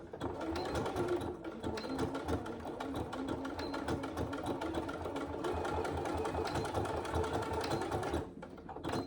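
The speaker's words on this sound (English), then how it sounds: "And then you just, again, just stitch the line" A sewing machine stitches a line on a fabric saddle bag, a fast steady mechanical whir and rattle running continuously and close, easing off briefly near the end.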